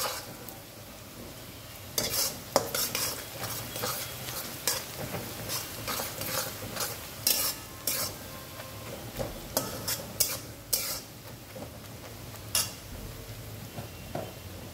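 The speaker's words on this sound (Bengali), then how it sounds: "এদিকে পেঁয়াজটাও ভাজা হয়ে এসছে, অনেকটাই ভাজা হয়ে এসছে" Onions fry in a pan for a mutton kosha curry, a soft sizzle running underneath as a utensil stirs and scrapes in repeated, irregular strokes with sharp metallic clatters, close by.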